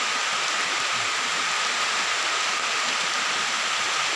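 Steady, dense hiss of rain falling in a forest during mushroom gathering, loud and continuous throughout with no voices.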